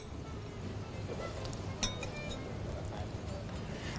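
Flour and sugar stirred together in a bowl give a quiet scraping mix with a few light clinks of a utensil against the dish, one sharper tap standing out midway.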